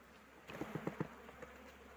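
Honeybees buzz around a hive frame during a spring colony inspection, a close, soft hum with a few louder buzzing bursts in the middle.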